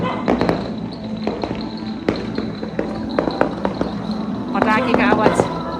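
Firecrackers bang outdoors in the early morning, sharp scattered pops and cracks echoing at a distance over a steady background hum, with a short burst of rapid crackling near the end.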